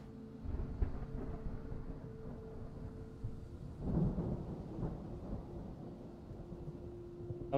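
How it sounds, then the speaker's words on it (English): Low thunder rumbles in the distance beneath a soft, noisy outdoor background, with one swelling roll near the middle that fades back into a steady murmur, no one speaking. "You hear that, the thunder?"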